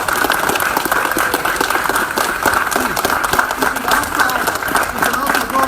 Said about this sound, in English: And let's give Josh a big round of applause.